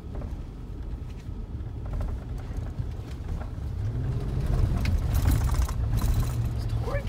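A rental truck drives through slippery mud, its engine rumbling steadily with creaks and sloshing that grow louder and rougher toward the end.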